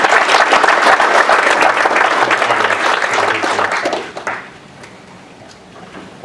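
An audience applauds after a talk at a Socitm Spring 2014 conference, loud sustained clapping from many hands that fades out after about four seconds into a quiet room.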